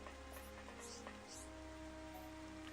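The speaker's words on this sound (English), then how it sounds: "Does it ever stop raining in this place?" Rainfall in the Xenoblade Chronicles Definitive Edition game world, a soft, steady patter under a low background hum with a few faint chirps, quiet and continuous.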